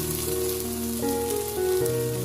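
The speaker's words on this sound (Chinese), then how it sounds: "继续开中小火快速的翻炒，把茄子的水分炒干就差不多了" Eggplant stir-fried in a pan over medium-low heat gives a steady, close sizzle and hiss that runs the whole time, with tonal music playing over it.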